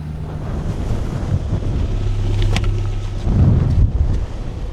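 Strong wind roars steadily into the microphone, rumbling and buffeting throughout with gusts swelling toward the end.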